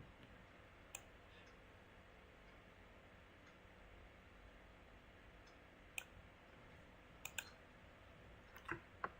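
Occasional computer mouse clicks, sparse and faint, sound over a quiet room hum during QGIS map work.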